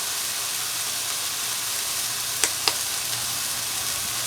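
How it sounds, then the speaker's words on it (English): Buttered Texas toast sizzling on a Blackstone griddle, a steady broad hiss of frying throughout with two quick metallic taps in the middle and no speech. "butter up my Texas toast. Get those a browning."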